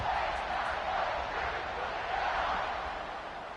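A broad, steady roar from a stadium crowd in the College Football 26 video game, a dense continuous wash of cheering and noise that holds level throughout and eases slightly at the end.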